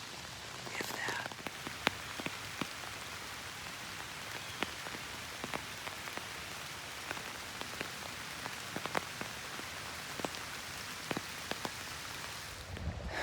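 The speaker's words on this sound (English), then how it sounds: "the rain, it keeps picking up, and every time it picks up, it's like it gets worse and worse" Rain drumming steadily on a hunting blind in the Ohio woods during an evening bow hunt, a dense patter of close, sharp drops over a soft continuous wash, growing heavier, with no voices.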